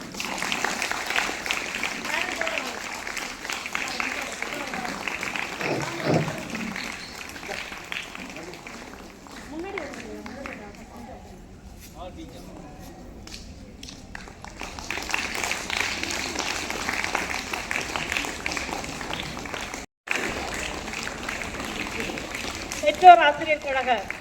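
Crowd applause at a government girls' higher secondary school Independence Day celebration, a sustained patter of many hands that rises, fades, then swells again, mixed with a voice on a loudspeaker.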